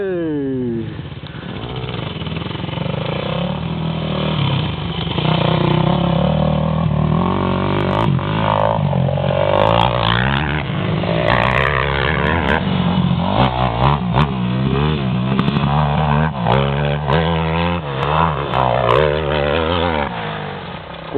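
A motorcycle engine revs repeatedly, rising and falling in pitch, loud and fairly close, with brief bursts of acceleration.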